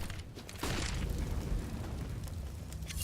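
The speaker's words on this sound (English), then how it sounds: "Molotov flash." In CS:GO, a molotov and a flashbang go off during a match: a muffled burst followed by a sustained roaring, crackling wash of fire that stays loud for several seconds amid distant game noise.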